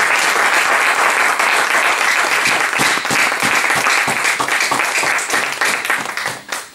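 Church congregation applauding loudly in praise during a Sunday service, a thick, steady roar of clapping that carries on for several seconds before tapering off at the end.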